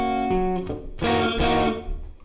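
Electric guitar, a Stratocaster, playing the opening measure of a song: a few clean picked chords and strummed strikes with sustained ringing notes, close and alone.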